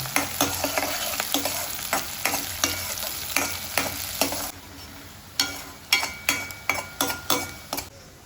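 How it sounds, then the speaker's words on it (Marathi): Green chillies sizzle steadily in hot oil in a pan for a prawn curry while a spatula stirs them, striking the pan in a quick run of sharp, close clinks. A short lull breaks the clinks before another fast burst. "2 मिरची टाकलेली आहेत. मस्त शिजवायचं आहे का?"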